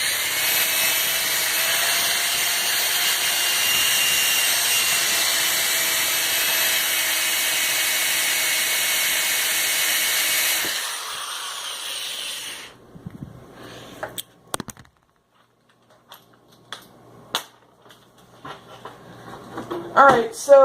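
A power drill bores out door panel rivets on a 1990 Volvo 740 sedan in a loud, steady whine for about ten seconds. It then stops, followed by scattered clicks and knocks.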